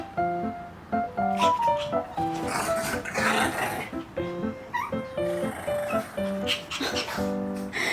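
A dog whimpers close by in high, wavering whines that come again and again, while a person talks over it.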